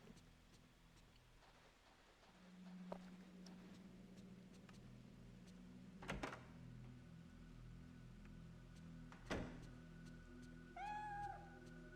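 Cat meowing in the video game Fatal Frame 3, a few soft mewing calls near the end over a quiet, ticking game background with scattered thuds, no talk.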